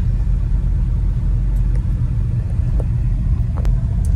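Steady road traffic in a busy town area with malls nearby, cars passing as a continuous loud low rumble with a few brief engine swells, no talk.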